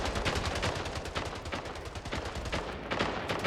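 Continuous rapid gunfire in a video game, dense overlapping automatic bursts filling the whole stretch at steady loudness with no pauses.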